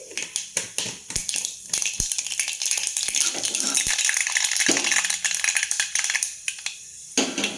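Mustard seeds hitting hot coconut oil in a pressure pan, giving a dense crackle with sharp scattered pops from start to finish, fairly close and steady, with no talking over it.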